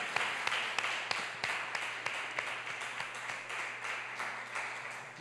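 A church congregation at a Sunday service claps steadily in a quick, even rhythm, the sharp hand claps soft and somewhat distant in a resonant hall.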